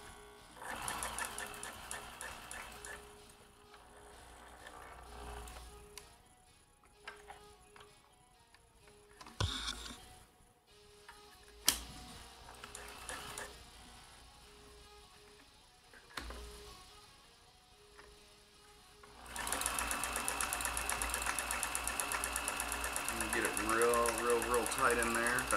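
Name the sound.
vintage Janome Combi DX 502 sewing machine sewing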